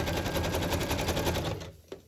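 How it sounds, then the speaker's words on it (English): A sewing machine stitches in a fast, even mechanical rhythm, then stops abruptly near the end. "But I like the look of the sewing machine, the stitching."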